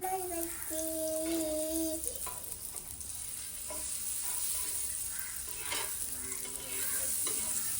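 Patty frying in butter in a hot pan, a soft steady sizzle close by, interrupted by brief clinks and scrapes of utensils and a couple of faint tonal beeps.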